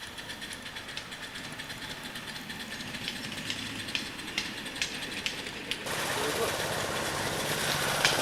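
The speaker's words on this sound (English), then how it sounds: "Gary's driving his loco right now" A miniature live-steam locomotive runs at a hobby railway birthday jubilee, giving a steady rhythmic chuffing and mechanical rumble with regular sharp beats; the sound grows louder and brighter toward the end as the engine draws nearer.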